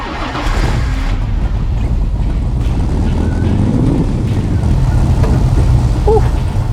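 Ford GT40 recreation turned over and fired up, its engine catching and settling into a loud, steady idle rumble with wind buffeting the microphone throughout.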